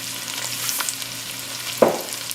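Chopped onions with a little salt sweat in a pan, a steady close sizzle with soft stirring and one brief clack of a utensil near the end.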